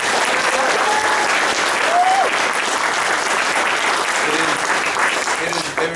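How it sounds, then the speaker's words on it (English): A community gathering honoring an African American service agency breaks into a strong, sustained round of applause, with faint voices and calls mixed into the dense clapping. "Please give them a round of applause."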